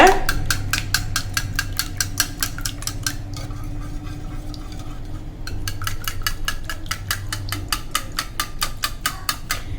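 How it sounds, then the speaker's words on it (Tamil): A fork whisks egg whites and yolks together in a bowl for a masala omelette, giving rapid, even clinking strokes with a short pause midway while a voice talks underneath. "அந்த வெள்ளை கருவும் மஞ்சள் கருவும் நல்லா கலக்கிற மாதிரி கலந்துக்கோங்க"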